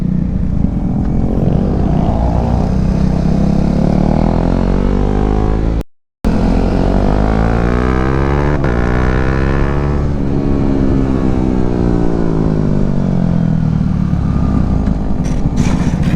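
A KTM 390 Duke single-cylinder motorcycle on a race track during a track day, its engine loud and close, revving up and down through the gears with one brief cut in the sound partway through.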